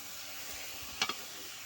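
Jaggery and grated coconut fry together in a pan over a low flame, giving a faint, even hiss broken by a brief pair of clicks midway.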